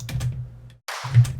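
A clap sample within a layered drum beat alongside kick and snare, sounding as short bright bursts with a thumping low end, a brief gap, then a louder hit near the end.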